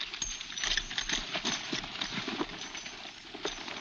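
Horses gallop in a steady run, hooves clip-clopping rapidly and continuously at close to moderate distance in an outdoor Western chase, with no voices over the drumming.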